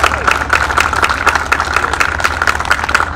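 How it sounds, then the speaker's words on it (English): Outdoor crowd clapping for Rod at a Surf City Classics car club meeting, a loud continuous patter of hands with a low engine-like hum underneath, no speech over it. "Round of applause to Rod."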